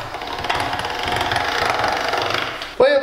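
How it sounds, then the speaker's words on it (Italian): A pasta machine rolls out sheets of dough for cassatelle, giving a steady, dense mechanical rumbling whir that runs almost unbroken before a brief voice cuts in at the end. "Ora con la macchina della pasta io mi allargo già le sfoglie"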